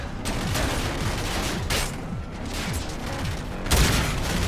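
Gunfire from the shooter game Call of Duty: Infinite Warfare crackles in rapid bursts and scattered shots, with a heavier blast near the end, over a continuous busy game soundscape.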